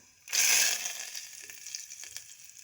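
Cumin seeds and curry leaves hit hot oil in a pan for a spicy village-style brinjal curry, bursting into a loud close hiss that slowly settles into a steady sizzle with faint crackles.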